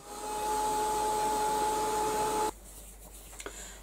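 A drying tool blows on a blossom fairy craft piece with a metal leaf, giving a steady whirring hum for about two and a half seconds before cutting off abruptly, followed by faint clicks.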